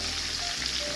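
Fish frying in hot oil gives a steady, close sizzle with a constant crackling hiss throughout and no talking.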